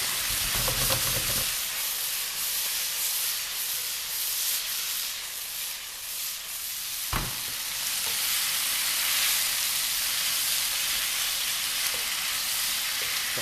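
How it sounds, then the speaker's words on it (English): Chicken stir fry with oyster sauce sizzles in a hot pan, a steady bright hiss and crackle with a brief clatter near the start and a sharp tap midway. "See that sizzle?"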